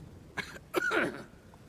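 Two short, raspy coughs, one quick and one fuller, sound close by against a quiet background.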